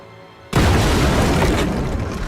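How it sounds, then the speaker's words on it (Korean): A bomb in the Dungeon Fighter Online video game goes off with a sudden, loud, close boom after a short quiet lead-in, then a sustained roaring blast that fills the rest of the moment. "폭탄."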